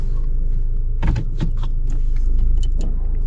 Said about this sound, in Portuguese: Colocar o cinto